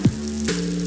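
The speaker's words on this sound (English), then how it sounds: "That's the sound of Hungry Howie's hot, real mozzarella cheese melting over a bed of dough made fresh today." Hot real mozzarella cheese melting on fresh-made pizza dough in a radio ad, a brief loud sizzle with a sharp initial crackle and a steady frying hiss lasting under a second.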